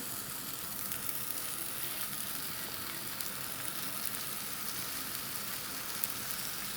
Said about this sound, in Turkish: Tava yeterince ısındı. Köftelerimi dizmeye başlıyorum.